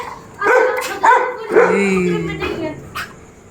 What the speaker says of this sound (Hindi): इसे देखो डॉगी आ गया